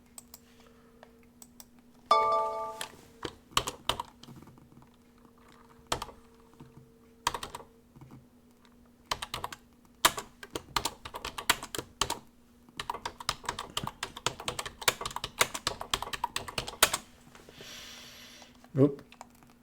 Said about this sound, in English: I'm going to type in tweezer top resistance to break.